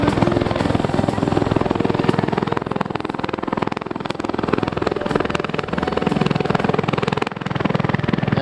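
Helicopter hovering at an airshow during a hoist demonstration, a loud steady rotor chop and engine roar holding close and constant throughout.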